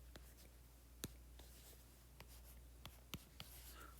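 Faint scattered taps and scratches of writing on a board during a physics lecture on conservation of energy, heard over a steady low room hum.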